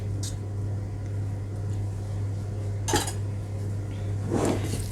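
A whisk clinks against a mixing bowl while cake batter is scraped off, two or three faint, brief metallic taps over a steady low hum.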